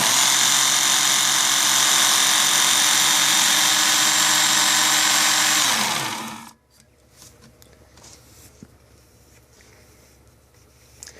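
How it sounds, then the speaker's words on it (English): A knife blade ground on a WorkSharp Ken Onion belt sharpener, a loud steady whirring motor with belt grinding for about six seconds, then winding down to quiet room noise with faint handling sounds. "I gotta finish the grind on this side"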